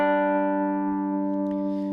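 Two guitar notes struck together as a sustained dyad, ringing steadily and clearly alone for two seconds with a gentle decay.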